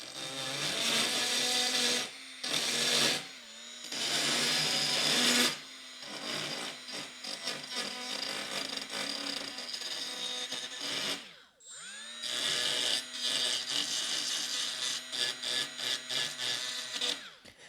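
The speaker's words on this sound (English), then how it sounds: "maybe we'll start with the burr so I can open up some of this" A rotary burr grinds rust out of the V-groove of a weld on an old Wilton clamp being restored, a loud steady whine running in several long bursts with short pauses and a brief spin-down near the middle.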